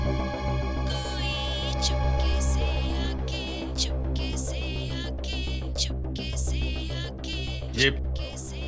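A song with steady beat and melody plays continuously at moderate volume, slightly thin, like music coming from a phone speaker.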